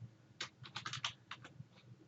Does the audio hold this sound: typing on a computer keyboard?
yes